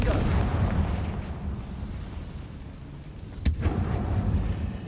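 A Confringo blast spell in Hogwarts Legacy sounds as a booming burst that rumbles and fades, followed by a sharp crack and a smaller second blast near the end.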